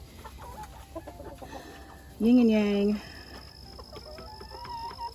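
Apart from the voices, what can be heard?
blue-laced red Wyandotte roosters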